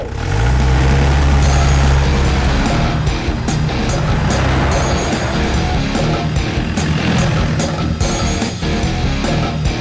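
Car being driven off in a dubbed South Indian movie scene, a loud low engine rumble that revs up and pulls away over about ten seconds with scattered clatter, no talk over it.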